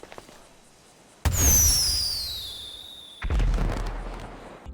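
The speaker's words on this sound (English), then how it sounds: "the firework launcher should really be the marvel of a weapon" A firework launcher in GTA 5 fires twice: a sharp blast with a bright whistling, crackling trail that fades over two seconds, then a second deep boom, with no voices.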